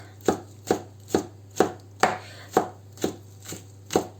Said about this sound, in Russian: Пока батон у нас подрумянивается, режу лук и укропчик.